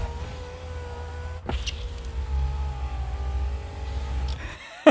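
Car power windows whir up and down in several short motor runs, with a soft thump as a window seats, close and fairly quiet.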